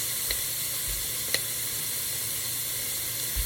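Vegetables for minestrone soup sizzle softly in a pan as a steady, even hiss with a couple of faint clicks, quiet and alone without voices.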